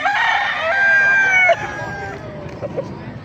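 A Sinibalang gamefowl rooster crows close by, one long strained cock-a-doodle-doo that breaks off sharply, with murmuring voices and farmyard noise around it.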